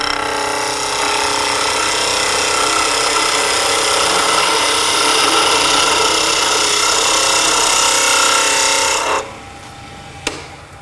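Wooden spindle being cut on a lathe with a turning tool against the tool rest, a continuous bright hissing scrape for about nine seconds, close and loud, then stopping with a single small knock.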